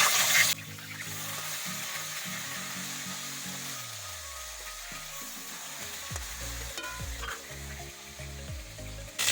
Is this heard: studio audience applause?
no